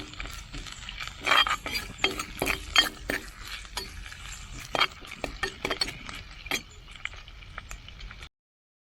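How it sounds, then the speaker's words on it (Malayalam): Ginger, green chilli and curry leaves sauté in a pan for a fish curry with ash gourd, as a spoon stirs and clinks against the pan in irregular bursts over a light sizzle. "ഇഞ്ചി, പച്ചമുളക്, കറിവേപ്പില ഇട്ട് കൊടുക്കുക കേട്ടോ. ഇത് ശരിക്കും ഒന്ന് മൂപ്പിച്ച് കൊടുക്കണം"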